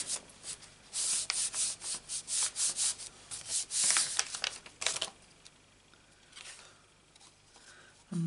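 Hand rubbing over freshly stamped paper with a Stampin' Up Little Ladybug stamp, a close series of quick, rhythmic scuffing strokes for about five seconds that then thin out into quieter, scattered brushes.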